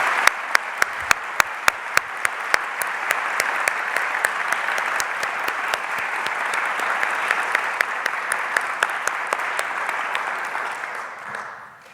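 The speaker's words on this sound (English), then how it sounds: "let's give her another round of applause" Audience applause at an MLK convocation at Augsburg, a sustained, loud round of crowd clapping with a few sharp individual claps standing out, fading at the end.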